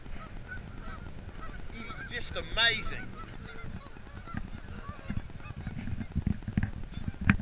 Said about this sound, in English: Look at these beautiful flocks of birds.